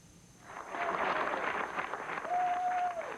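A crowd applauds as a defeated presidential candidate walks into his office the day after the 1988 election. The clapping swells in and holds steady, sounding moderately distant.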